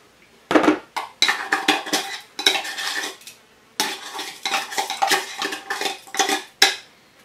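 A hemp birdseed carp bait mix is stirred hard in a container, producing fast, loud, close scraping and rattling strokes in quick bursts with brief pauses between them, and no talking.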